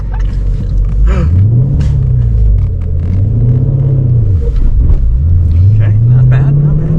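Deep engine rumble from a 425HP Dodge Challenger SRT8 with a manual gearbox, revving in rising and falling sweeps as the car pulls away on a busy road, loud and close with people talking over it.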